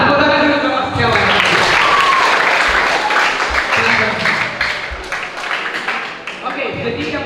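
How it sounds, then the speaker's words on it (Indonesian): Audience applause at a dental health education talk in a clinic, a sustained wash of clapping from a crowd that fades toward the end, loud and close, with voices mixed in. "tepuk tangan dulu untuk Mas Setiawan."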